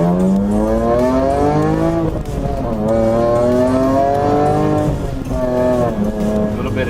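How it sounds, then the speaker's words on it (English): A 2002 BMW E46 M3 with a six-speed manual pulls hard through the gears, its engine note rising steadily in pitch, dropping at each shift, then climbing again, loud and close throughout. "We'll just quickly run it through the gears here"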